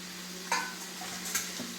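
Clams frying in a pan for a Kerala clam thoran are stirred and mixed, giving a couple of sharp scraping strokes over a steady, quiet sizzle, close by with no voices.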